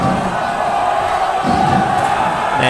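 Supporters of Suankularb school at a student football match roar and shout in a dense, loud, continuous crowd din for a few seconds, with no single voice standing out.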